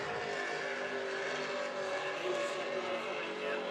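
Super Cat racing powerboats with HRE 750 horsepower naturally aspirated engines during qualifying at the St. Pete Powerboat Grand Prix, a faint, distant steady roar that holds without a break.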